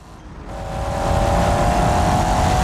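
A turbocharged 1970s GT car engine in a video game roars steadily, its pitch holding high and strong as the boost builds, loud and continuous with no voices.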